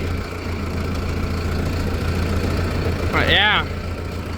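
A tractor engine idles with a steady low hum throughout on a farm, with a brief voice speaking over it near the end.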